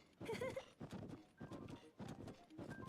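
Horse hooves clip-clop in a steady, uneven trotting rhythm in a video game, close and clear, with a faint neigh near the start.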